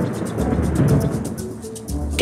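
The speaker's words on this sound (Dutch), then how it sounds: "Nu doet de donder er 4 tellen over." Thunder rolls as a low, rumbling swell that rises and fades over about two seconds during a storm in a children's animation. It is fairly loud, and no one speaks over it.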